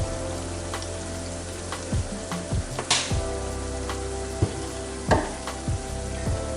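Marsala wine sauce seasoned with oregano and black pepper sizzles and bubbles steadily as it reduces in a pan for tuna Marsala, with occasional louder pops and stirring scrapes close by.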